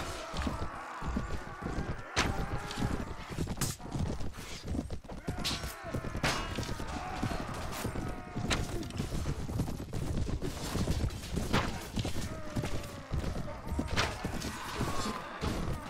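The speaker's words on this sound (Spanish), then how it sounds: "Voy aquí con mi caballo el malo porque siempre me lo hieren." Horse hooves gallop steadily through a dense, continuous battle din in the Mount & Blade Warband video game, with sharp clashes and impacts scattered throughout.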